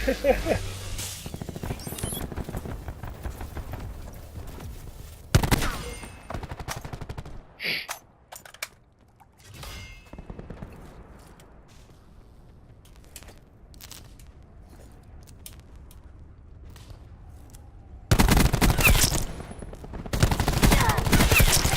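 Automatic gunfire from Call of Duty Black Ops 4, loud rapid bursts at the start and again near the end with sporadic single shots between, while players talk over it.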